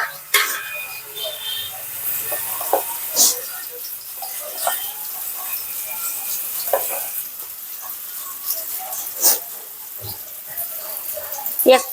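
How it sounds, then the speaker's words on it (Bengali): Oil sizzling steadily as onions fry, with occasional clinks and stirring scrapes close by; faint voices in the background. "পেঁয়াজ দিয়ে আমি একটু ভেজে নেব"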